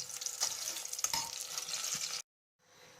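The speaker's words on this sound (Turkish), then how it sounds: "diğer malzemeleri kavuracağım" Ingredients for Şehzade kebab sizzle and hiss in a hot pan with occasional stirring scrapes, then the sound cuts out briefly before faint sizzling returns.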